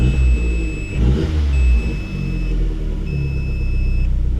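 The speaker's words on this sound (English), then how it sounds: "I'll give it a little bit of gas." An Audi TT engine rumbles close by and is revved a few times, the pitch climbing and falling in short bursts.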